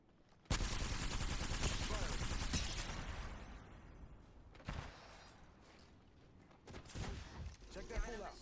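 Rapid video-game gunfire bursts out loudly at once, a dense rattling volley that thins into scattered shots and sharp cracks over the next several seconds.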